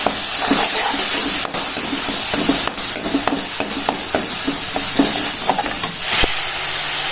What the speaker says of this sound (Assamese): এই তেলখিনিত মই পেষ্টখিনি দি দিম আৰু পেষ্টখিনি দি পেলাই এইখিনি অকণমান দেৰি লৰাই ভাজি থাকিম